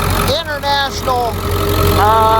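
A 2002 Ford Excursion's 7.3-liter International diesel engine idles with a steady low rumble and hum. It sits close under continuous talking throughout.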